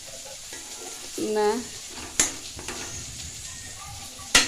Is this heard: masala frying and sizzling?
yes